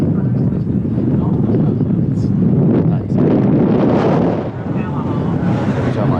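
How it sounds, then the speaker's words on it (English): Heavy wind roars and buffets the microphone continuously, with a broad rushing noise that swells in strong gusts throughout; wind steady around 25 with gusts over 40, outdoors at a MotoGP track. "the wind today is running about 25 steady with gusts over 40"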